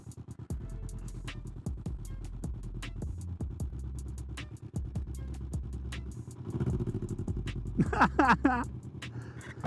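A Can-Am Ryker three-wheel motorcycle engine idles with a rough, rhythmic throb, revving up slightly near the end as voices talk underneath.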